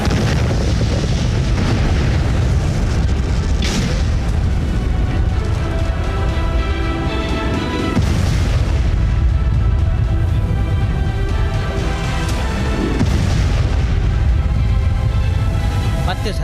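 Bomb explosions in a war setting, heavy booming blasts rolling one after another over a constant loud rumble, with a dramatic narrated voice running over them.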